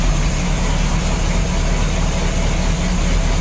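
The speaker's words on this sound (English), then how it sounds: "I just fired up the engine right now for the test" A 1987 Bayliner Cobra 2250 boat's OMC inboard engine idles in a steady, low rumble at close range, even and unchanging throughout, with no voices.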